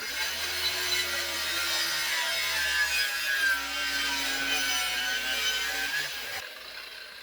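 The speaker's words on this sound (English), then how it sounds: "I'm going to use a saw on which I put a 45-degree angle and only 3/8 of an inch out of the blade." A saw with its blade tilted to 45 degrees and set only 3/8 inch high cuts a bevel along a wooden wall cleat, a steady, loud, continuous rasping whine that runs without a break and then drops away near the end.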